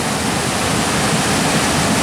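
A river runs high and fast after a night of heavy rain, giving a steady, loud, close roar of rushing water that holds unchanged throughout, with no voices.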